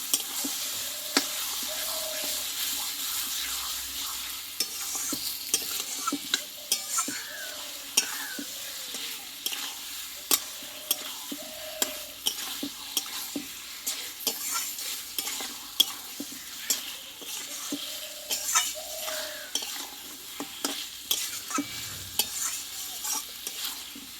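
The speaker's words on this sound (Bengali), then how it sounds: "মশলার সঙ্গে ভালোভাবে কিছুক্ষণ আমি কষতে থাকবো" Mutton sautéing with masala in a pan, a soft sizzle under repeated scraping stirs of a spoon that come in uneven bursts, close and fairly quiet, with no talking.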